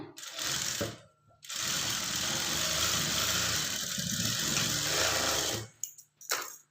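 A sewing machine runs in a long, steady burst while top-stitching a blouse, preceded by a short start-and-stop and ending with brief taps as it halts, all close and fairly loud.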